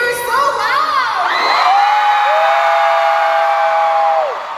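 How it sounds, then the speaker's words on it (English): ONCE fans cheer and scream at a concert in Orlando, a dense, loud crowd roar with sustained high-pitched shrieks that swell and hold before easing slightly at the end. "Your cheering and your screams are so loud."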